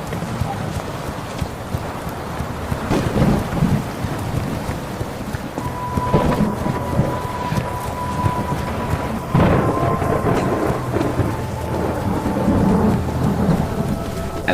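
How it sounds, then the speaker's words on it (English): Video game rain and thunder in GTA San Andreas: steady rain hisses throughout while deep rolls of thunder rumble and crack several times, fairly loud and close, with no talking. "Then it started to rain."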